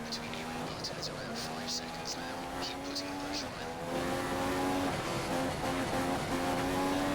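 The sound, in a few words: Formula 1 race car engine in racing video game, Spain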